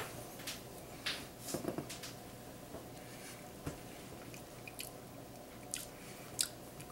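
Quiet, close chewing of pork chops over rice: soft, irregular squishy bites and mouth sounds with occasional small clicks, faint and without talk.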